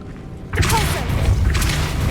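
A Pulso spell blast in Hogwarts Legacy hits as a sudden loud boom with a whooshing swell that rolls on for a second or two, set against game ambience.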